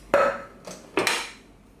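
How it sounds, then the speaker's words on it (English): Scraped bitter melon goes into a container with a few hard knocks and clatters, three distinct impacts close to the microphone, the first sharpest, followed by short rattling decays. "I put all of this in a container like this."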